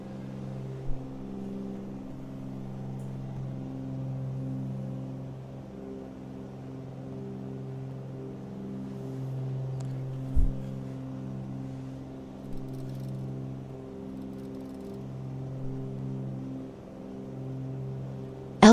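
A Cessna 310 twin-engine aircraft's engines drone steadily from inside the cabin, a low, layered hum with a gently pulsing beat that persists throughout, with a few faint clicks.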